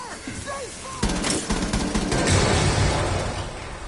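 Rapid gunfire bursts ring out in the video game Rainbow Six Siege, dense and loud, with rattling shots over mixed game effects and a brief electronic tone at the start.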